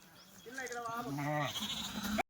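Several sheep bleat in wavering, harmonic calls, including Nizampuri sheep and lambs at a livestock sale, loud and close, overlapping one another through most of the stretch.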